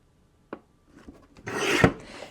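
A paper trimmer cuts card stock: a sharp click, a few small taps, then one close, rasping slice of the blade through the card.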